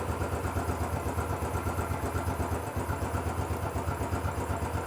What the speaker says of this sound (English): old school engine running.